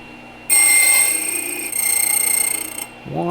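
An HPC Blitz key cutting machine whirs up abruptly to a loud, steady high-pitched motor whine while cutting a Kwikset key, fluttering slightly as the blade bites, then cutting off and spinning down near the end.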